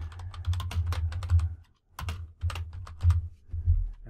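Steady typing on a computer keyboard while filling in a form in Microsoft Word 2016: fast, close rattling keystrokes in two bursts separated by a brief pause, with no voices.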